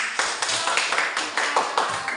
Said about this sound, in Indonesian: Kita kasih tepuk tangan untuk.